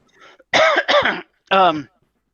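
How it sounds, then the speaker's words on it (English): A person clears their throat and coughs in a few short, harsh bursts close to the microphone, separated by brief pauses. "First of all, apologize for the coughing."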